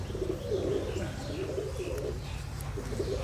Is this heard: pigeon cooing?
yes